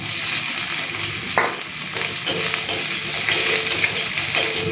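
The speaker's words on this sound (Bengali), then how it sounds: "পেঁয়াজ রসুনটা ভাজা ভাজা করে নিয়েছি" Chopped onion and crushed garlic with dried red chili frying in hot oil in a wok, a steady close sizzle with scattered crackles and occasional clicks of a stirring utensil scraping the pan.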